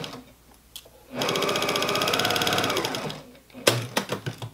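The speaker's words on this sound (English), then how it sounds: "Now we've sewn all the way along the top" A sewing machine stitches along the top of a reversible fabric bottle gift bag, one steady rapid whirring run of about two seconds, with quieter handling noises before and a few clunks afterwards.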